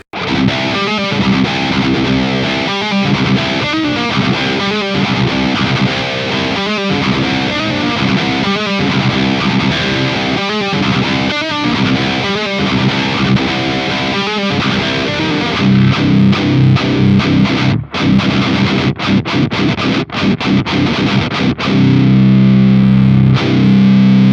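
Heavily distorted electric guitar plays chunky, rhythmic chugging riffs, loud and up front, shifting to sustained ringing chords near the end.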